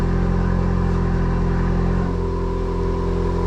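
A heavily modified, stage 2 Volkswagen Golf R engine revs loudly with a deep, throaty rumble that pulses steadily, close to the listener, with no talking.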